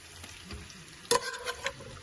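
Boiled beans fry with onion in a pan, giving a soft, steady sizzle with a few stirring scrapes and one sharper clatter midway.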